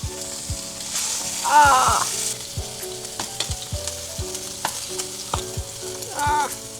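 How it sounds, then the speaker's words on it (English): Pasta sizzling in a pan while being stirred, with repeated scraping and clacking strokes of the utensil against the pan over a soft steady fry, close and fairly quiet. "Pasta's in there. Gotta give it a good stir."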